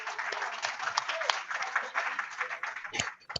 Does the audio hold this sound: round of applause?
yes